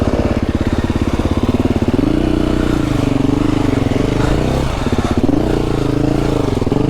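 A KTM 350 dirt bike ridden through snowy woods on unstudded tyres, its engine droning loud and close with a rapid pulsing beat, rising and falling as the throttle opens and eases.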